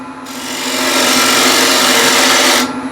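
A wooden bowl blank is roughed out on a woodturning lathe: the gouge bites in with a rising, coarse shearing roar that holds steady and loud, then cuts off abruptly near the end.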